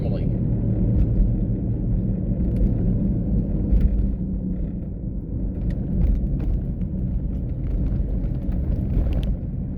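A car rolls along on a test ride, its low road rumble and engine drone steady throughout, with light rattles and clicks from inside the cabin.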